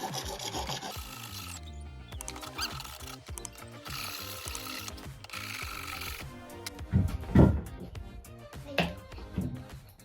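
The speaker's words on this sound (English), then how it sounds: "you want to go and grab a file" Hand file rasping over a metal catchall valet tray, a run of rough scraping strokes close up, with some louder bursts of rubbing toward the end and no talking.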